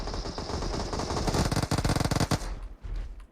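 Rapid automatic gunfire from a PUBG Mobile match, a dense burst of loud, close machine-gun shots that rattles on for about two seconds before cutting off.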